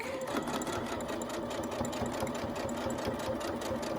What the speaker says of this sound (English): I'll put it in the machine.